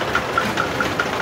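A boat engine idling among canals and stilt-house shops at a Bangkok floating market, a close, steady low throb with a regular ticking pulse about five times a second.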